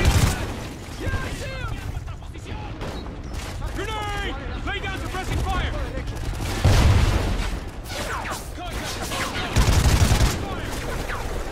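Gunfire from the video game Call of Duty Ghosts crackles in rapid volleys, with heavier booms landing now and then. The shots are loud and run almost without a break, and voices and game sound effects come through underneath.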